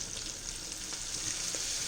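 Steady, soft sizzling from a pan where all-purpose flour has gone into melted butter for a white sauce, heard close and continuous over a low flame with no voices.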